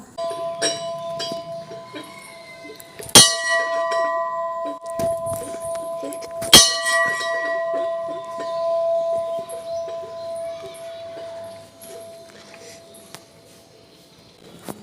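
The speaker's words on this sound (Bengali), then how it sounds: "এই ঘন্টাটা কিন্তু আমি বাজিয়েছি তিনবার" A temple bell rings sharply twice, each strike leaving a long, fading metallic hum, while a voice talks quietly over background noise.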